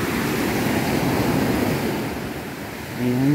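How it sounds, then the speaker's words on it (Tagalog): Strong high-tide waves break on the beach at Hinunangan as a loud, continuous roar of surf with a wind-buffeted rumble. The roar dips briefly, then swells again near the end. "Malakas na yung alon."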